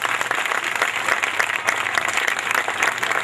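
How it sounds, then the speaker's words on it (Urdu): A church congregation claps loudly and continuously for Jesus during a sermon, a dense, close wash of many hands applauding without pause. "آئیے یسوع کے لیے بھرپور تالیاں بجائیں۔"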